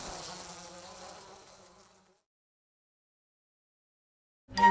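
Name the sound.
bees buzzing as they fly away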